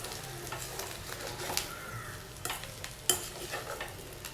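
Ivy gourd fry with peanut powder is stirred in a pan, soft sizzling under quiet, irregular scrapes and clinks of a spatula, one sharper knock near the end, close and fairly faint.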